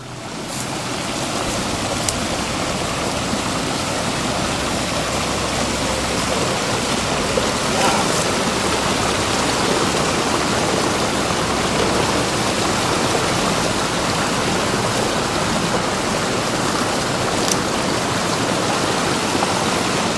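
Sludge, oil and chemicals pour from an underground pipeline into the Washita River, a steady, loud rushing roar of water that runs unbroken throughout.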